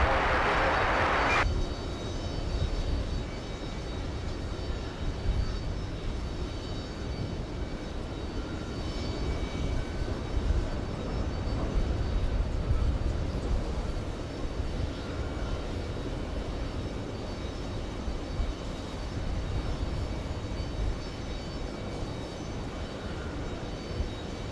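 Jet airliners roar at JFK airport during takeoffs from runway 13 right, a steady, fairly distant engine rumble holding for the whole stretch with no talk.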